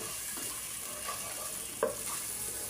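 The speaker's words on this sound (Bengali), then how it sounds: "এই প্যানে আমি পেঁয়াজ দিলাম" Onions frying in a pan give off a faint, even sizzle, with a brief clink of a utensil partway through and no voices.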